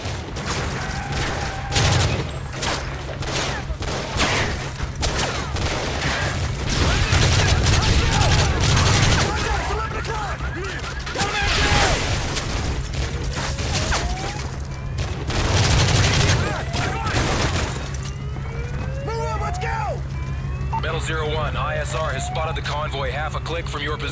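Heavy gunfire from a firefight in Call of Duty Modern Warfare 3 crackles in dense volleys and booms, while radio-style voices talk over the combat throughout.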